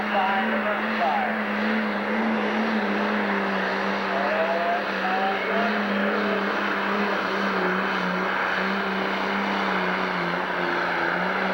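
The T-Bone pulling tractor, with its friction-shift Farmall, idles and drones steadily at a 1997 Sandwich, Illinois tractor pull, a constant low mechanical hum with outdoor crowd and event noise around it, heard from a distance.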